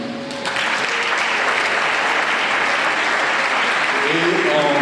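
A church audience applauds Reverend Pastor Gaspard Aubion, a loud sustained wave of clapping that swells in after a brief voice and stays strong to the end, with cheering voices mixed in.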